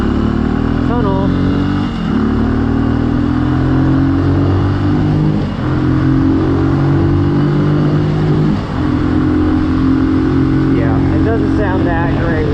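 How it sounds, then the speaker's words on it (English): A Benelli motorcycle on its stock exhaust rumbles steadily through a ride on a fine day, passing through a tunnel. The low engine drone holds throughout with slight rises in pitch, loud and close. "Doesn't sound that great with the stock exhaust. It's got a little bit of a rumble at the bottom"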